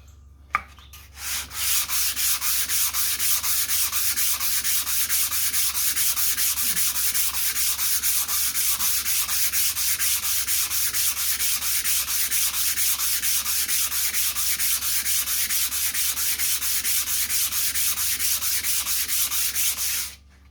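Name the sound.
rubbing vintage sharpening stone on sandpaper to flatten it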